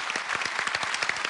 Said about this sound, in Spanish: Démosle un gran aplauso a Fidel.